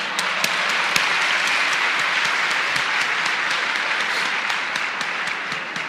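Audience applause fills the room steadily for about six seconds, a dense, even patter of many hands clapping with a few sharper claps standing out, no speech over it.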